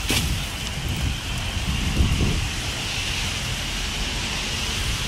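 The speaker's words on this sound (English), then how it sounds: "And here's the rain." Heavy rain pouring down outdoors during a hurricane, a dense steady hiss with wind and low rumble, constant and close throughout with no voices.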